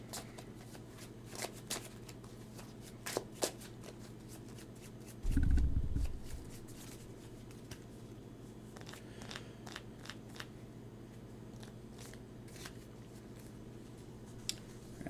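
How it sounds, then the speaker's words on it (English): A deck of cards is riffled in one quick, close burst, with scattered light taps and clicks of cards handled on a table before and after during a tabletop card game. "Put it into my hand and then shuffle my library."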